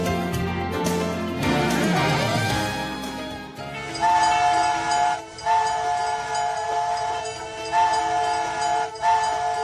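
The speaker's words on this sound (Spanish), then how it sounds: "Volver a escuchar ese sonido clásico del tren por los rieles que trazaron las pasadas generaciones" A train on the Ferrocarril de Antioquia railway in Colombia, its wheels rumbling and clattering along the rails while the horn sounds in loud sustained blasts, close and continuous.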